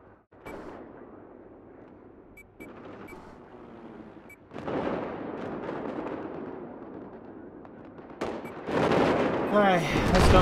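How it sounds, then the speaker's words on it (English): Explosions and gunfire in the video game Rainbow Six Siege, with a few sharp bangs followed by heavier rumbling blasts and rattling bursts at moderate loudness, with a person talking over the action. "Ooh, explosions."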